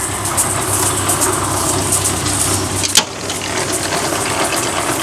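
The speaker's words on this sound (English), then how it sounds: "All we should have to do is pull this lever backwards, and it should start unloading this grinder." A feed grinder's engine runs at a steady, loud idle-like drone while the wagon unloads, with one brief sharp knock partway through and otherwise an unbroken mechanical hum.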